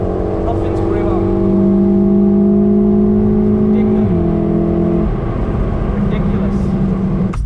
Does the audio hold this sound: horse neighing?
no